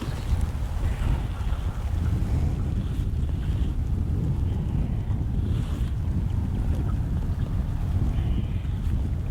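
Steady wind rushes over open water, with a close, continuous buffeting roar and faint lapping against a boat throughout.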